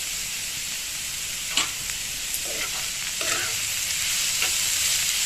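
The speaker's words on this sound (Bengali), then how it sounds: "কোচানো পটলগুলো দিয়ে দিলাম দিয়ে নেড়ে চেড়ে আমি এটা ভেজে নেব" Pointed gourd (potol) fries with a little salt in a pan, a constant close hiss of oil with occasional soft scraping clicks as the pieces are stirred and turned.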